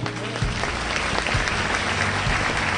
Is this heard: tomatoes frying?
no